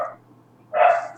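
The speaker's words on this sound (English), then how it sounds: "that's my dog" A domestic dog gives a short bark at a moderate distance, and a brief yip-like sound comes just before it.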